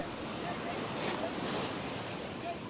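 Stormy sea surf churned up by Cyclone Montha roars as a dense, continuous wash of crashing waves and wind buffeting the microphone, loud and unrelenting throughout.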